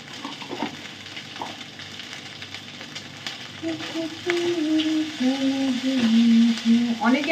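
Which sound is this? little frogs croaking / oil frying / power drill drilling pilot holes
oil frying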